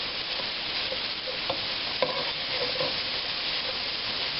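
Bacon is stirred into pork and beans in a pot, a soft continuous sizzle with a few light scrapes and knocks of the spoon.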